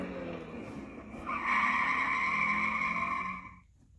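Tires of a custom-made candy apple red turbocharged sports car squeal in a long, loud skid that rises into a sustained high screech for about two seconds, then cuts off abruptly.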